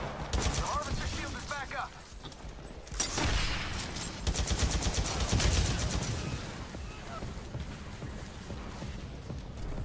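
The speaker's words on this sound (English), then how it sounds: "Explosion!" Rapid bursts of gunfire and blasts from a video game, rattling in dense volleys with a heavier burst near the middle, while a player talks over the action.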